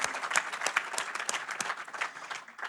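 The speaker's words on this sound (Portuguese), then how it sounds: "Uma salva de palmas para eles também." A small audience claps at a book launch in Porto, brisk steady applause from a modest crowd lasting a few seconds with no talking over it.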